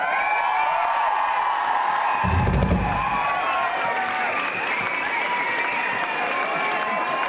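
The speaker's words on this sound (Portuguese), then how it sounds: "Uma multidão aplaude o ídolo suíço." A concert crowd applauds a Swiss pop idol before the show, with sustained clapping and cheering under bright sung or amplified tones and a brief low thump near the middle.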